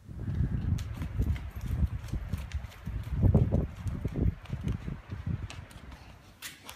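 A horse walks steadily on all four legs, its hooves clip-clopping in a fairly even rhythm, close and moderately loud, with no talking.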